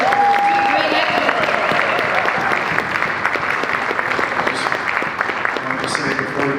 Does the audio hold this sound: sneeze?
no